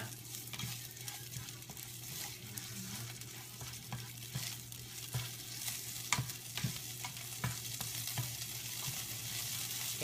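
A Thai curry is stir-fried in a pan, a steady close sizzle with repeated sharp spatula clacks and scrapes in an uneven rhythm, no voices.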